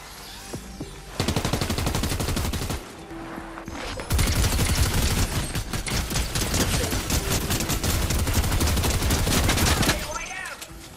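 Gunfire in the Fortnite video game, where rapid bursts of automatic fire from an SMG rattle loudly in long sustained stretches that are broken by short pauses.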